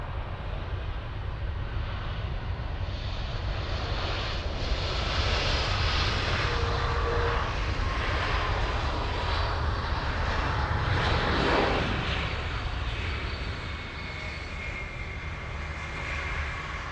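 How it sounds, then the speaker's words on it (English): A Lufthansa airliner arriving from Barcelona roars in on approach at Munich airport, a loud, steady broadband engine drone that swells slightly and then eases off toward the end, with no talk. "This one flying in from Barcelona, we have Lufthansa 1819."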